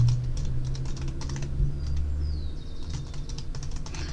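A password is typed on a computer keyboard in a quick, steady run of close key clicks that carries on without pause over a low background hum.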